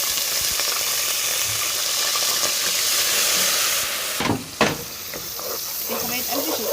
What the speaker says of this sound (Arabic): هنزل دلوقتي بمعلقه خل